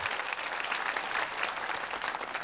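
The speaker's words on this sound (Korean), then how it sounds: "우리 렘너들이 준비를 많이 해서 오늘 우리를 즐겁게 했는데 감사의 박수 드립시다." A church congregation at a Christmas festival gives warm, sustained applause, many hands clapping in a thick, even wash.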